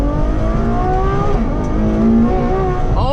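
A Ferrari F12 TDF V12 engine revs hard under acceleration, loud and close, its rising harmonic whine dipping at a gear change before climbing again.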